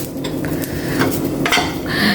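Curry leaves and shallots hit hot oil in a pan, giving a close, busy crackle and sizzle broken by a few sharp clinks and scrapes of a utensil against the pan, with no one speaking.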